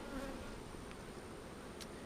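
Honey bees hum in a faint, steady drone around an open hive during an inspection, with a few brief louder buzzes as individual bees pass close.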